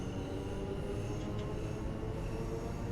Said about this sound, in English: You can hear a lot more of the motor nuance now that I've got the windows open.